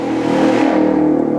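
A motorcycle passes by outside a workshop where a Yamaha Vega ZR cylinder head and valves are being worked on, its engine droning steadily and fairly loud throughout, with no talk over it.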